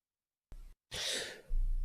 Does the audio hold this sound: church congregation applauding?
no